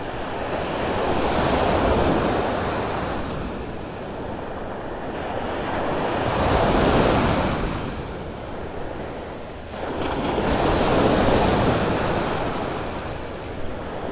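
Small waves wash up on Vanderbilt Beach in North Naples, Florida, in slow repeating surges, each swell rising and falling every few seconds with a soft airy hiss and some wind.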